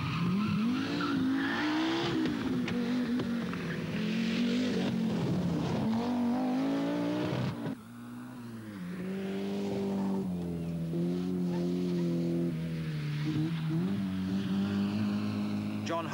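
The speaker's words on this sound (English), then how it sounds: "British national champion Daryl Wiedner in his fire-spitting Audi Quattro is pacing himself carefully" A fire-spitting Audi Quattro rally car at the 1983 Lombard RAC Rally, engine loud and close as it revs and changes pitch through gears, with tyre noise; a brief dip near the middle, and a commentator's voice runs over it.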